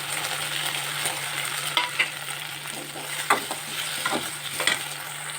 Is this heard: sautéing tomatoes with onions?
yes